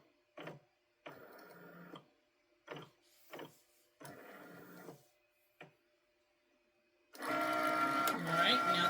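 A Cricut cutting machine cutting an iPhone 14 Pro case design, heard as quiet, intermittent motorized whirring bursts with pauses between, followed by a louder continuous mechanical run at the end.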